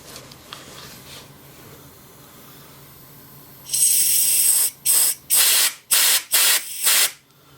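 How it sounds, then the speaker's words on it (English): Compressed air blasts through the brake caliper ports of a 1985 Suzuki Intruder 750 during a rebuild, as a long loud hissing burst followed by five short sharp bursts, close up, with no talk. "So I'll use a little bit of compressed air for that."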